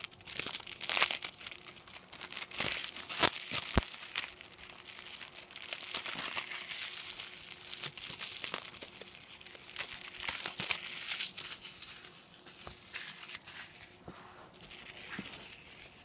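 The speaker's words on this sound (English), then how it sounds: "Take the security tape off." Security tape is peeled and pulled off a Blu-ray case, giving close, continuous crinkling and tearing plastic rustles with sharp clicks, steady throughout with no talk.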